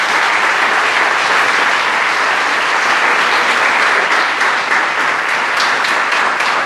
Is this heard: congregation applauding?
yes